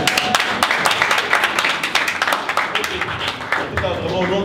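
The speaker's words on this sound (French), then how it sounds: "on va vous applaudir tous les deux" An audience at a French school event on computing degrees claps for two guests, a dense patter of close hand claps running steadily throughout with a speaking voice over it.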